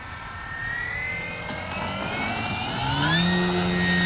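Flex Innovations RV-8 G2 radio-controlled model plane in flight, its electric motor giving a steady whine that rises in pitch and grows louder as it passes, with no voices.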